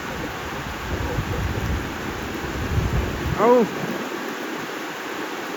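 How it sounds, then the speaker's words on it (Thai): Heavy rain pours down beside a railway as a diesel railcar train passes through a storm, a dense steady rush of water with a man's brief exclamation and a short whistle-like tone near the end. "ฝนแรงจริง"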